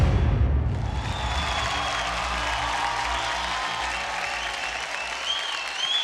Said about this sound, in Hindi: जोरदार तालियां हो जाए guys boogie LLB and Saumya के लिए